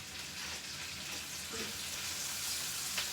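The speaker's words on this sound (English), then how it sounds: "Now, how I like to saute my greens, I add a little bit at a time." Turnip greens sauté in a pan with a faint, steady hiss and sizzle, a soft stir or two barely rising above the background.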